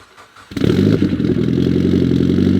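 After a quiet moment, a Mitsubishi Lancer Evolution X engine cold-starts, cranking and catching, settling into a loud, rough, clattering idle close by.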